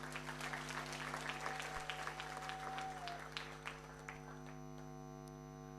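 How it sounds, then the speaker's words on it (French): An audience at a second-anniversary celebration gathering breaks into a burst of clapping that is dense at first and then thins out into scattered claps, with a steady electrical hum beneath it. "Applaudissez pour eux, s'il vous plaît."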